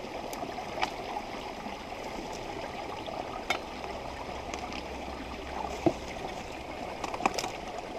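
A stream flows beside a spring and waterfalls, a faint, steady gurgling wash with occasional soft splashes and knocks from someone wading, quiet and continuous without talk.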